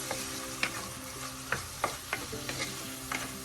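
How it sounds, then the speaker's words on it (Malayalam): Green chilies and tomatoes sautéing for a tuna fish curry over medium flame, with a steady sizzle and scattered spoon scrapes and stirring knocks against the pan, close and clear, no talking. "നന്നായി വഴറ്റാം."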